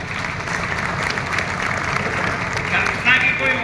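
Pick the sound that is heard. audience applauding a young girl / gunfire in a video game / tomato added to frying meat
audience applauding a young girl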